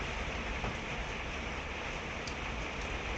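Rain and hail fall in a dense, even hiss of patter, steady and moderately faint throughout, with a few sharper taps standing out and no voices.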